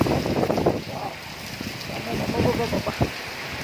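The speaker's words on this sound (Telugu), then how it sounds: "వర్షం అయితే ఫుల్ అంటే ఫుల్ వస్తుంది" Heavy rain pours steadily in Hyderabad during a windstorm while a person talks over it, the downpour forming a dense, constant wash.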